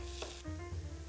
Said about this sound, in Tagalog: Gigisa na tayo.